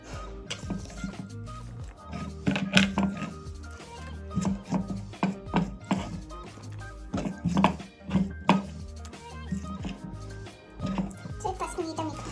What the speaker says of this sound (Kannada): ಇಷ್ಟು ಚೆನ್ನಾಗಿ ಕಟ್ ಮಾಡೋದು ನೋಡಿ ಫ್ರೆಂಡ್ಸ್ ನಮ್ಮಮ್ಮ